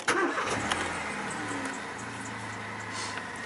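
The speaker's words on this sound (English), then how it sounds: "Key in the ignition." A car engine cranks and catches after the key is turned in the ignition, then settles into a steady, close idle rumble with no talking.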